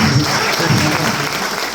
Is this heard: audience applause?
yes